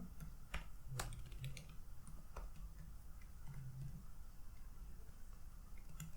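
Keystrokes tapped on a computer keyboard while coding a Python result-generating project, a steady run of close, crisp clicks with occasional louder taps over a low room hum.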